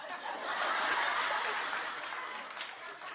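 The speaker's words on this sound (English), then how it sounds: "Clap if you get them." Studio audience at a daytime television talk show clapping and chuckling, a steady wash of applause mixed with light laughter that swells early and then tapers slightly, heard alone without talk.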